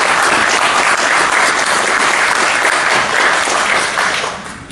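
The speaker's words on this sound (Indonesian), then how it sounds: "kita mohon teman-teman media memberikan aplaus kepada PSSI dan juga pemerintah" A press room of journalists applauding at a football federation press conference, dense sustained clapping from many hands that stays loud, then thins out and fades toward the end.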